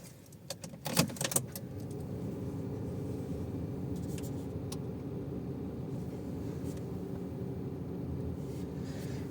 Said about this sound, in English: Let's try turning the car on.